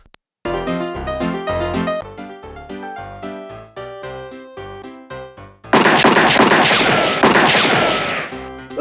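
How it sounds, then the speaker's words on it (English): Gunshots ring out in front of the saloon in the Sierra PC adventure game Freddy Pharkas: Frontier Pharmacist. After a stretch of game music, a loud, dense burst of gunfire and commotion erupts and continues for several seconds. "Without warning, you hear gunshots out in front of the saloon, plus lots of yelling and shouting."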